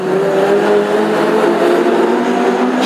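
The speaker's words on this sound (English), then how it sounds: "There goes Johnson. 3 laps left" Classic hot rod race cars lap the track at Northampton during a heat, their engines droning loudly and continuously with a steady revving whine, close and unbroken throughout.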